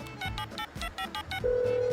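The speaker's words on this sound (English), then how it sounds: "it's ringing, Rupert." A telephone rings in quick repeated electronic trills, then settles into a steady held tone; fairly close and clear.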